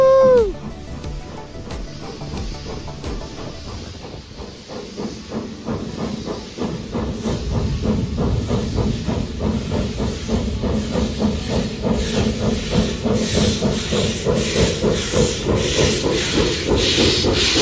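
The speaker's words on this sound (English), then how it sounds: "I'm about to back away so I don't get just annihilated with steam here in a second." A steam locomotive vents steam in a loud, continuous hiss that grows stronger and rougher partway through, with a brief whistle-like tone at the start and rhythmic chuffing and clanking underneath.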